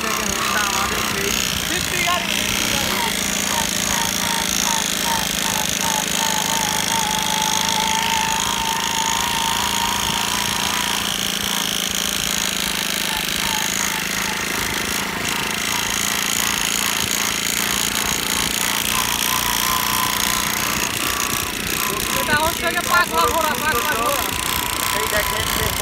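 A three-wheeler easy bike engine runs close by in a steady, loud mechanical chatter that lasts the whole stretch, with some rattling through the middle.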